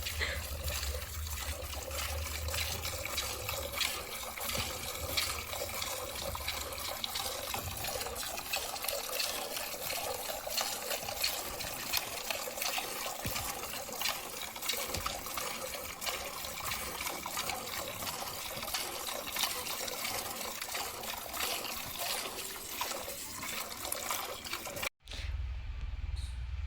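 Continuous soft streaming and trickling of milk into a container as a cow is hand-milked, steady and close, with faint background noise throughout.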